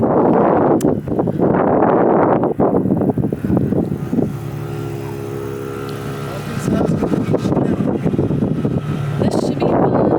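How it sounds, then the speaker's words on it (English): Wind gusts buffet an outdoor spot by the water on a sunny, breezy day, making a steady, loud roar with rumbling flutter across the microphone and a lull partway through. "But it's still windy because we by the water."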